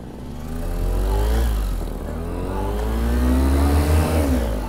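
A brand new Maverick Atom 80 paramotor engine runs steadily after a pull start outdoors, a loud continuous buzzing drone that rises and swells slightly in pitch and level throughout.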